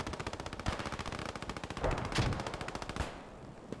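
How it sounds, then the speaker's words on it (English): A machine gun in the Post Scriptum war game fires long rapid bursts down a road, loud continuous rattling with a few heavier blasts mixed in, cutting off near the end. "suffering a lot of casualties with that MG firing straight down the road"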